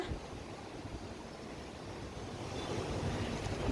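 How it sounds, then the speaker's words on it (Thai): Steady, strong wind roars and buffets in a continuous rush ahead of a rainstorm in Phnom Penh, with no voices, building slightly toward the end. "อุ้ยลม"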